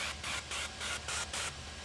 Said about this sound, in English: I'm going to give them just a little spray of olive oil